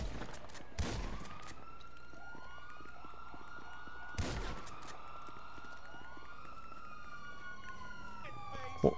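Police sirens in the GTA 5 video game, wailing in rising and falling sweeps at a moderate distance, cut twice by heavy gunshot bangs and ending on a sharp crack.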